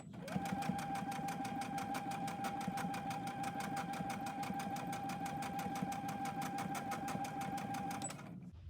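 A sewing machine stitches a children's cloth face mask, running at a steady fast pace throughout with a constant mechanical whir and rapid needle clatter, close and loud, stopping just before the end.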